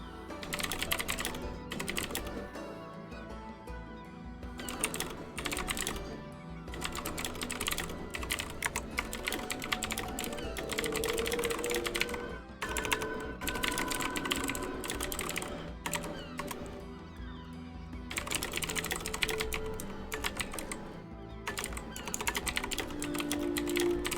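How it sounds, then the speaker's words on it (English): Steady, rapid typing on a computer keyboard goes on throughout at close range, with dense key clatter broken by a few short pauses. "Sorry, I was just typing."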